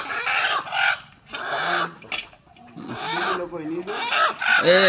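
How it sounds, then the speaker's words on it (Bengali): Two desi country roosters are handled while being weighed, giving out clucks and squawks up close, mixed with people talking nearby. "দেখুন এখন ওজন করা হচ্ছে দুটো মোরগ।"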